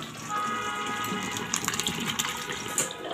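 Starchy cooking water from boiled rice pours steadily through a perforated strainer, a continuous close splashing gush with a few sharper spatters and no talking.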